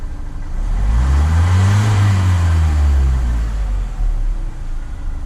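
A Renault Master van's engine, suspected of a faulty injector, rises and falls in a loud, close rev with a deep rumbling tone and no talk.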